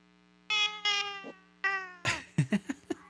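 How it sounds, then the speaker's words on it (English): A cat named Ripley howls loudly in a few drawn-out wails, followed by a rapid burst of short, choppy yowls, close and indoors. "Loud kitties, dude. Yeah, Ripley likes to howl."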